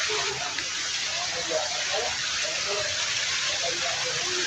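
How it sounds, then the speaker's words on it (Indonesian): Steady rain pours outdoors near an old hydroelectric power plant, a dense, continuous hiss with scattered patters and drips on surfaces, loud and unbroken throughout. "Hujan teman-teman."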